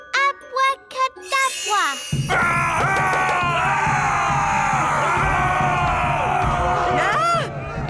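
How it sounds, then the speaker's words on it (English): Cartoon Vikings in a children's animated series burst into loud, continuous group shouting and whooping, preceded by a few separate voices. "Running around and shouting."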